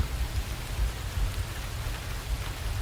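Steady rain falls with cold gusts of wind, a continuous broad wash of patter over a low rumbling roar, moderately loud and unbroken throughout.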